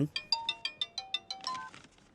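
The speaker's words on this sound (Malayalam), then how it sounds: "ആ ഫോൺ റിംഗ് അടിക്കുന്നു" A telephone plays an electronic ringtone of about ten evenly spaced, bright melodic beeps with short decays, fairly close and clear in a quiet room, stopping after a little over two seconds.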